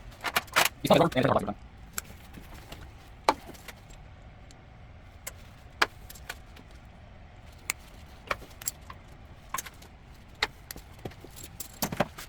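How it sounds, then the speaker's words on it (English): Plastic grommets and tees on a 6.0 Power Stroke diesel's glow plug harness snap off under pliers in sharp, irregular clicks close by, with a brief burst of rattling near the start and quiet pauses between snaps. "I'm just gonna break all these plastic grommets or these plastic tees off. That way I can just get my pliers on the wire and rip it off."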